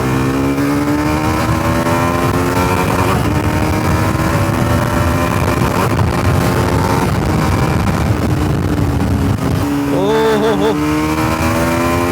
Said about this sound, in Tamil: எக்ஸாஸ்ட் நோட்டே பார்த்தீங்கன்னா டிஃப்ரெண்ட்டாக இருக்குது. ரொம்ப லவுடாக இருந்த மாதிரி இருக்குது